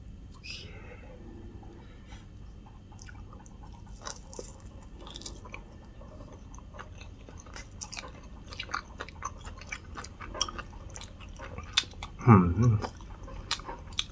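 Someone bites into air-fried sushi up close, with soft crunching and chewing clicks scattered through the stretch and a louder crunch near the end.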